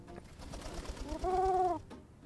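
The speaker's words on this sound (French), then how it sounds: "Alors, un petit pigeon." A pigeon in the video game Bum Simulator gives a single close, soft coo, a short throaty rising-and-falling call over quiet background noise.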